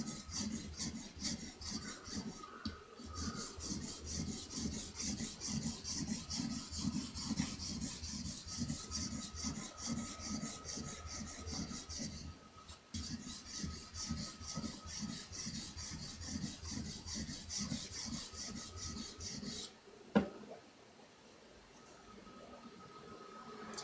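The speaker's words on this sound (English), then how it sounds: "You can't just sharpen the blade with just only one side of the blade being on the stone." A blade sharpened on a sharpening stone, rhythmic back-and-forth grinding strokes that are close and steady for about twenty seconds, then a knock and quieter, sparser rubbing at the end.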